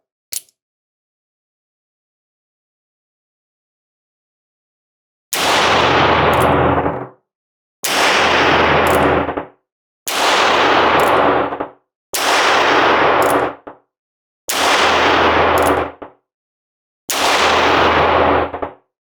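Six loud, booming gunshots from a Heritage Rough Rider .22LR revolver ring out one at a time at an outdoor range, roughly two seconds apart, each with a short ringing decay, after a long quiet lead-in.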